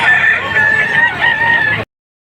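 A rooster at a Padre Garcia, Batangas chicken market lets out one loud, close crow that lasts nearly two seconds and then cuts off abruptly.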